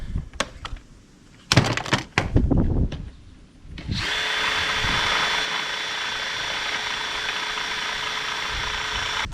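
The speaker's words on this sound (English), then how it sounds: "So I drill my 3/8 inch hole" A power drill bores a 3/8 inch hole in an outdoor table leg, running steadily for several seconds after a few short bursts and knocks, a continuous whining hum close by.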